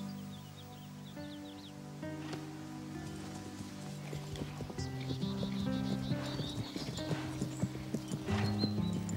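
A horse's hooves clip-clop in a steady walking rhythm, close and clear, with some musical tones playing underneath.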